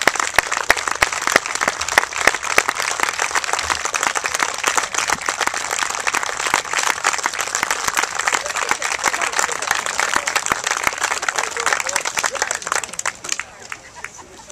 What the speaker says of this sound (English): Nice big applause.